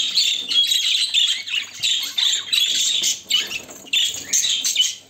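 Pet parrots bathing in a small water tray on a hot day squawk and screech in rapid, repeated bursts, loud and close, with no talk.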